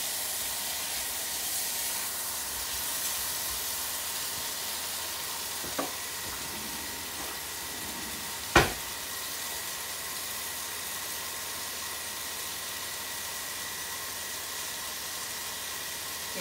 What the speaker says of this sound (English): give these ones a little stir.